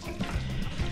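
Water pours steadily into a cooking pot of potatoes, cod and onion for a harvest-style encebollado stew, a continuous close splashing fill with a slight trickle, no talking.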